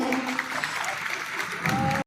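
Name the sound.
loud applause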